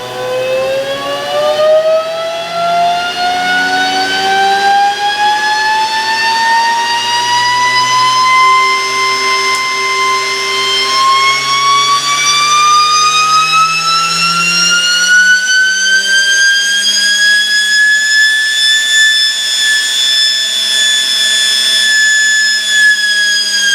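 A homemade kerosene-fuelled jet engine running in a garage, spooling up with a loud, continuous whine that rises steadily in pitch over roughly twenty seconds, heard up close with no talking.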